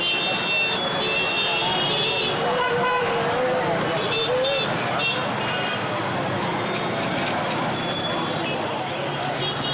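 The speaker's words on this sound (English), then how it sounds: "Even if traffic is at a complete standstill, horns are always honking." Car horns toot repeatedly amid loud, dense street traffic on Nawabpur Road in Dhaka, Bangladesh, with engines, clatter and voices filling the background throughout.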